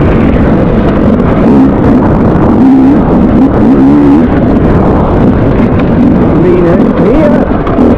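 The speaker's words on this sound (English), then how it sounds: "Now we'll go down the gears into second here" A motorcycle engine runs hard under the rider, its tone rising and dipping as he shifts down through the gears toward second, loud and close with wind noise over it.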